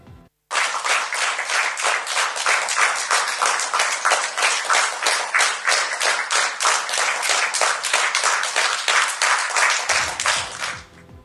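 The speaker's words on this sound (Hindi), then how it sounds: "पूरे कैबिनेट ने खड़े होकर उनके लिए तालियां बजाई।" Sustained, dense applause from cabinet ministers standing and clapping together, steady and loud for about ten seconds before fading out.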